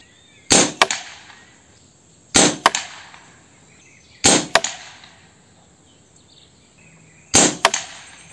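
An M22 air rifle with a Fiora barrel fires 25-grain slugs: four sharp, close cracks at irregular intervals, each followed quickly by a second snap of impact, with quiet gaps between.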